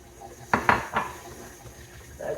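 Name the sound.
eggs being added to cookie dough one at a time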